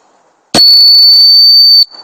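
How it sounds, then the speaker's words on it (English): A person gives one loud, sustained high whistle lasting over a second to call dogs back from a riverside during a dog day-care outing, with quiet outdoor ambience before and after. "I'm going to practice my whistling and see if they come down."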